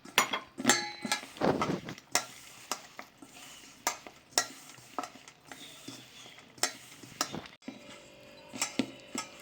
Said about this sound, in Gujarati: આ રીતે મસાલો મિક્સ કરી દીધો છે.